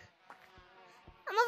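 Bees buzz in Gorilla Tag after their hive is touched, a faint tonal drone through the short stretch before a louder, brighter burst of buzzing at the end.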